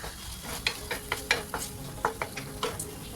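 Tomato is stirred into frying masala for Hyderabadi bagara baingan, with a close sizzle and a quick run of about eight rhythmic spoon scrapes and clinks against the pan.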